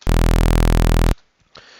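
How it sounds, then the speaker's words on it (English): A loud, buzzy simple saw-wave bass note from the Serum synthesizer holds steady for about a second, then cuts off, leaving faint background noise. "simple saw wave, and that sounds like this."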